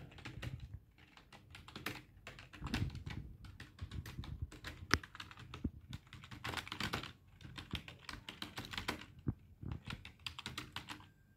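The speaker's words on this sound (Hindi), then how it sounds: "जब टाइपिंग करनी हो उंगलियों को बिल्कुल स्ट्रेट रखिए और आप टाइपिंग करते जाइए" Fingers tap quickly on a computer keyboard during a typing test, a dense run of close, crisp key clicks with brief pauses and a few sharper strokes, no voices.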